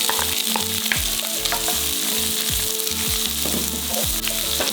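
A steady, loud sizzle of onion frying in a pan with toasted ginger, with occasional stirring scrapes over the continuous crackle.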